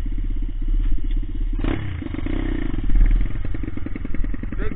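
A pit bike engine fitted with a big bore exhaust and rotor kit idles roughly, then rises through brief revs in a loud, close, uneven putter that runs alone without talk.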